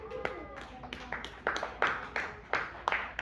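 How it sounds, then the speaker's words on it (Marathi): Children in a school classroom clap in several short bursts, with a teacher's voice talking over the first part before the claps grow louder and clearer near the end. "टाळ्या वाजवा यांच्यासाठी"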